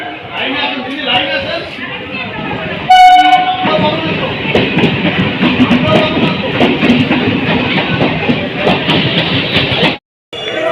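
A train arrives at a railway station, clattering loudly and continuously at close range, with a brief tonal horn blast near the start and a crowd murmuring underneath.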